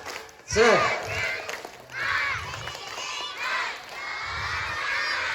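A crowd of schoolchildren at a primary school Maulid Nabi celebration shout a rhythmic spirit clap chant together, loud bursts of voices and claps rising and falling in phrases, with a teacher's voice leading.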